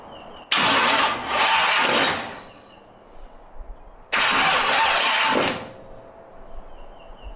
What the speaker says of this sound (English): Got my button hooked up, so we should be able to click this and hear it turn over.